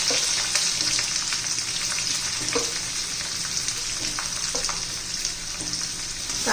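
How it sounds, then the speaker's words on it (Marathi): Onion and curry leaves frying in oil in a pan for rajma masala give a steady, close sizzle with scattered crackles and pops throughout. "आता कढीपत्ता घेऊन घेऊ त्याच्यात आता कांदा घालून घेऊ"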